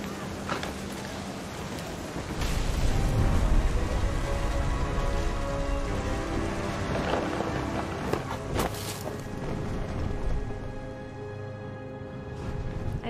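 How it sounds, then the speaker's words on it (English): Heavy rain pours in a beach storm in the video game What Remains of Edith Finch, a dense steady hiss with gusting wind and a sharp crack of thunder midway, loud and continuous with no talking. "The thunder sounded much too close and full of angry power."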